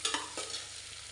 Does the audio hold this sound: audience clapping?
no